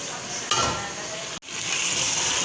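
Biryani masala sautéing in a pan with coriander, cumin and black pepper, a steady close sizzle and hiss that swells at half a second and briefly drops out near the middle before resuming.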